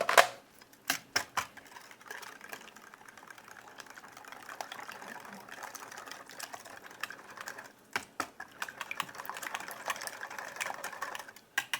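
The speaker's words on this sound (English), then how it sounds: "we'll whisk together our wet ingredients" Wet ingredients for corn bread being whisked in a bowl, fast irregular clicking and tapping of the whisk against the sides that builds into steady rapid scraping, close with no talking.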